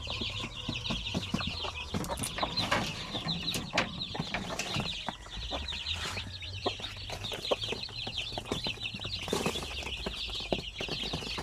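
Basilan and Zampen native chickens and chicks cluck and peep continuously, with scattered flapping and rustling in a quiet farm setting, close and moderately soft.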